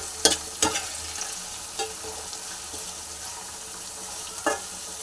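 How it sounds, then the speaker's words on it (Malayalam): Chopped onions with a pinch of salt are stirred in a hot pan, so a low sizzle sits under several sharp spatula scrapes and knocks spaced irregularly, close by. "നല്ലതുപോലെ ഒന്ന് ഇളക്കി കൊടുക്കാം."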